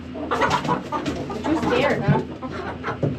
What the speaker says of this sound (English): It's just your rooster behind you.